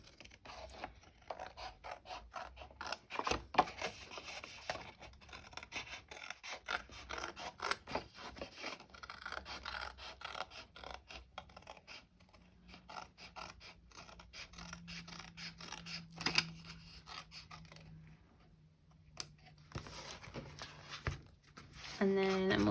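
Scissors snipping through a junk journal cover, a run of crisp repeated cuts and scratchy paper sounds close up, with someone talking at intervals.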